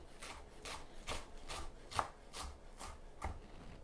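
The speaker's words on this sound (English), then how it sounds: "This is just a rough chop." Vegetables being rough-chopped with a knife on a board for an Italian eggs-in-purgatory dish: about nine quick, close blade-on-board chops in a steady rhythm, heard alone.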